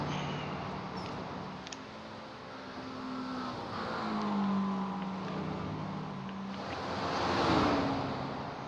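Racing cars in a sim race at Bathurst, a McLaren GT3 chased by a Mercedes GT3, their engines droning steadily with rising and falling pitch as they pass, mixed with a rushing wind-like roar.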